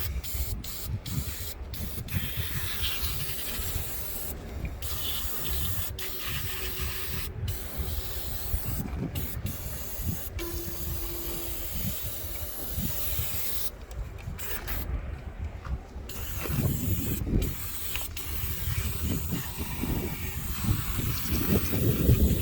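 Long, steady hiss of a spray nozzle spraying cleaner onto a Komatsu FG25 forklift, running almost continuously, broken by a few brief pauses, with wind noise in the background outdoors.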